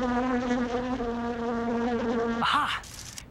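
A bee buzzes close by near a flower, a steady harmonic drone that wavers slightly before shifting pitch and fading near the end.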